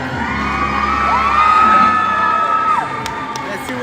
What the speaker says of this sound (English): the crowd erupts for Carlos